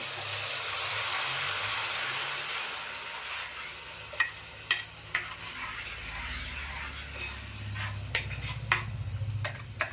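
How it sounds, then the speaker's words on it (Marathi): Ground masala paste sizzles in hot oil in a Malvani-style fish curry pot, a steady close frying hiss with scattered sharp scrapes and clinks of a spoon stirring against the pan. "ते वाटण ओतून घेते"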